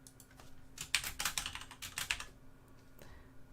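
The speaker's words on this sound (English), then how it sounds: "I'm typing out the poll." Rapid keystrokes on a computer keyboard, close and crisp, in dense bursts of clicking that thin out toward the end, with no talking.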